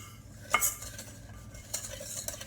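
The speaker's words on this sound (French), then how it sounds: "puis fouetter jusqu'à que le mélange devienne mousseux" A flat whisk beats a mixture until foamy, giving soft rhythmic swishing and a few light metallic clinks against the bowl. The sound is quiet and close.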